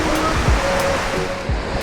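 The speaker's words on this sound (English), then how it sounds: "I hope y'all can hear me with the waves and stuff" Ocean waves break and wash continuously on Galveston beach by the first sandbar in cold water, a loud, steady surf roar with a few heavier low surges.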